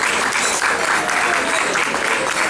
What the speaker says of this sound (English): another round of applause for Mason